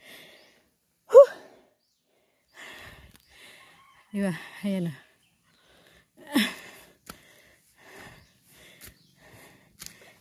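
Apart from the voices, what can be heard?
heavy panting after walking uphill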